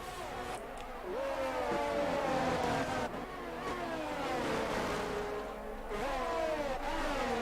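Race car engines in an F1 esports video game whine and shift pitch continuously as cars jostle and overtake, several engine tones overlapping with rising and falling revs throughout, fairly close and loud, no talk.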